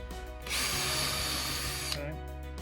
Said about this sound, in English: I'm gonna drill it right through here.